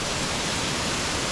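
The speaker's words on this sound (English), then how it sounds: "Pretty spectacular little waterfall." A small remote waterfall pours in a steady, dense rush of broadband white water, loud and close, continuous with no voices.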